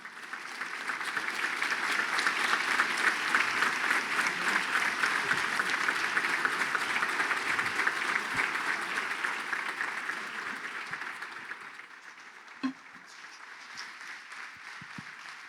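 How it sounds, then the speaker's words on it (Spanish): Sustained applause from an audience at an evening talk event, a broad, even roar of many hands clapping that swells, holds, then gradually tapers to scattered claps and a faint murmur. "fuerte ese aplauso"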